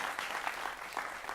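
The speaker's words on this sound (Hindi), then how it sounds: "जोरदार तालियां हमारे एक्सपर्ट्स के लिए भी।" Studio audience clapping on a Hindi television debate show, a brief burst of dense, even applause from many people, fairly close and without speech.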